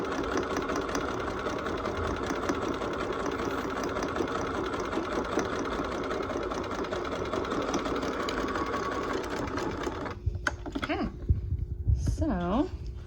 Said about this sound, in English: make sure that you're holding the threads back when you start sewing